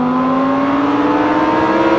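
The V10 engine of a Lamborghini Huracan revs hard and close, a loud, rising harmonic wail climbing smoothly in pitch over two seconds with no voices.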